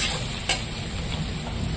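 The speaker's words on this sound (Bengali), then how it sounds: "এবার একটু নেড়ে চেড়ে দেবো।" Turmeric and salt being stirred in a hot cooking pan, a soft continuous sizzle with a single sharp scrape of the spoon midway, close and steady without talk.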